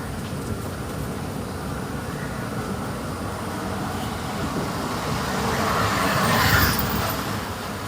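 A car driven by a young child rolls along the road, giving a steady close engine hum and tyre rumble that swells slightly toward the end, with no talking.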